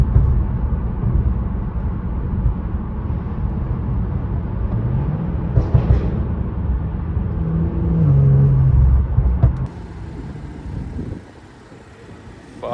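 A rebuilt BMW F10 rolls along a highway, a steady close cabin rumble of road and engine noise that swells briefly, then quiets near the end.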